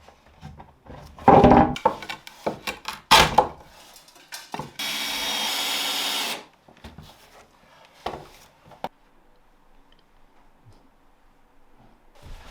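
A power saw cuts wooden floor planks for a mezzanine floor, a loud steady whine lasting about two seconds. Scattered knocks and thumps of handling the wood come before and after it.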